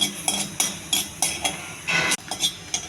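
Millet vermicelli is dry-roasted in an oil-free pan on a stove. A utensil strikes and scrapes the metal in a steady rhythm of clinks roughly every third of a second, close and clear, with no talking.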